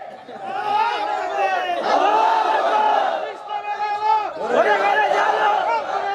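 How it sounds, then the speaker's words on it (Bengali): Crowd at a Bangla religious sermon chanting takbir, Allahu Akbar, in loud, massed, sustained waves of many voices, two big surges with a brief dip between them. "হয় নাই, হয় নাই, হয় নাই, হয় নাই, এরকম তাকবীর হইব না"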